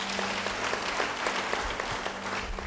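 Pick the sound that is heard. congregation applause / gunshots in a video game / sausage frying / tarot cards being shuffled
congregation applause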